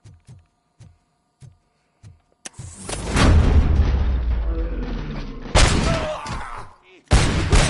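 A grenade blows up in Robocop: Rogue City, a loud, deep boom that rolls out with a long rumbling tail. A few soft thuds come before it and sharp bangs follow, with no talk over it.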